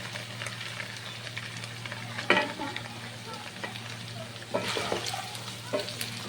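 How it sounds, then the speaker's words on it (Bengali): Vegetables stir-fried with half-cooked chicken for fried rice sizzle steadily in a pan, with sharp scrapes and clatters of a spatula stirring at intervals, close and moderately loud. "আর এখন আমি সবজিগুলো দিয়ে দেবো।"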